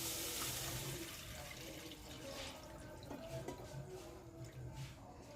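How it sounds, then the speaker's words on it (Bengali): A medium mug of water is poured into a pot of vegetable momo soup, a steady soft splashing and gurgling stream that runs for several seconds and then tapers off, fairly faint. "এবার মাঝারি মগের 1 মগ জল দিয়ে দিলাম।"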